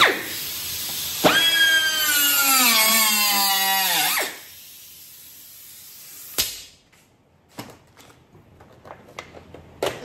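A power tool whines through cutting parts off an 1986 Pontiac Fiero GT, a loud rising-and-falling motor run of about three seconds, then a sharp clank and scattered quieter metallic knocks.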